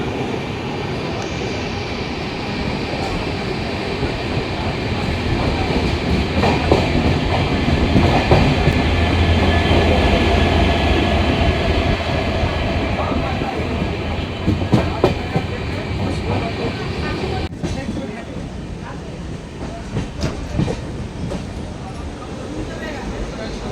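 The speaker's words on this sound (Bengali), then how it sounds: "ট্রেন এখন আমাদের প্রবেশ করছে সাঁতরাগাছি স্টেশনের 1 নম্বর প্ল্যাটফর্মে" Shalimar to Puri Jagannath Express train running steadily as it pulls into a station platform on the way from Kolkata to Puri, with a continuous loud rumble, rattling carriages and clickety-clack, and people talking on board.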